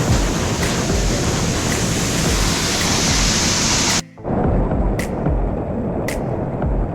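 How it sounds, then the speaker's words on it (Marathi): A small waterfall at Harishchandragad in Maharashtra during the monsoon pours with a steady, close, loud broadband rush that cuts out briefly for a moment before resuming. "ते बघा तो वॉटरफॉल कसा पडतो,"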